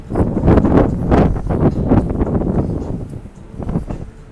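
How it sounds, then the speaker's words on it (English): Strong morning gusts of wind on the Carnival Sunshine cruise ship buffet the microphone in a steady, rumbling roar that rises and falls, with no other clear sounds. "it's very, very windy this morning, so we might not get the greatest video tour here"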